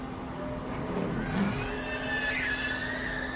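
A NASCAR truck slides sideways on the dirt at Eldora, its engine roaring steadily while a rising tire squeal cuts through partway, loud and close over continuous race noise.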